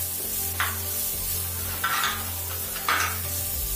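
Chopped green onions sizzling in a poha pan, a soft steady frying hiss broken by three brief scraping stirs of a spoon against the pan.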